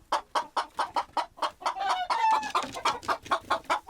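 Chickens on a farm making a rapid run of close, steady clucks, with a brief rising crowing-like call in the middle of the sequence.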